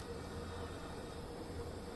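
Train moving through a city in the game Transport Fever 2, a faint steady low rumble of rolling wagons with no talk over it.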